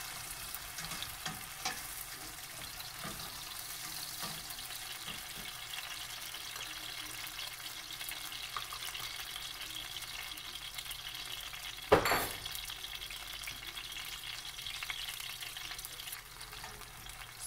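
Pepper frying in heated oil in a pan, giving a steady, quiet sizzle that runs unbroken throughout, with a brief louder clatter or stir near the end.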